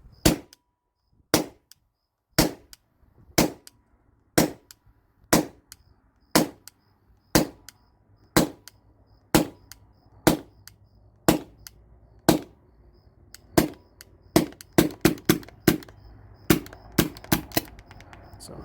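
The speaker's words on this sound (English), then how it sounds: "I'm just going to degas this thing" A Tippmann TiPX paintball marker on a CO2 tank is dry-fired to empty the gas, giving a long series of sharp, loud pops, spaced about a second apart at first and then coming faster and closer together toward the end.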